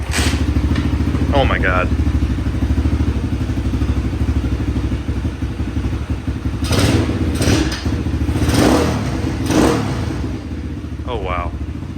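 An X-Pro Hawk 125 motorcycle with a replica Mikuni carburetor fires up after kick-starting and settles into a steady, loud single-cylinder idle that runs throughout, with a few clattering thumps and a brief excited exclamation over the engine.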